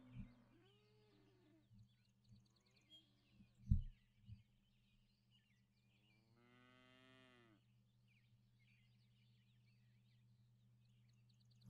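Cows in the farming video game Cattle and Crops moo faintly a few times over a constant low electrical hum, with a couple of soft thumps and a longer drawn-out moo near the middle.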